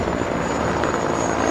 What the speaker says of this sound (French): circulent dans les airs les hélicoptères et Ilyushin de l'armée de l'air